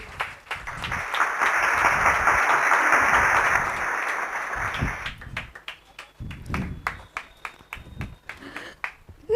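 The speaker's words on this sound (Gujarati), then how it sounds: "ક્યાંક એમનો ઉત્સાહ વધારવા માટે 2 તાળીઓ તો થવી જોઈએ કે ના થવી જોઈએ?" Audience at a stage play breaks into steady, dense applause for the performers, loud and sustained for several seconds before thinning into scattered claps and taps.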